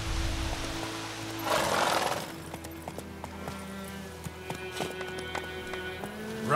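Horse hooves galloping in The Witcher 3: The Wild Hunt, a rhythmic clip-clop of hoofbeats over game ambience and a brief whoosh near the start.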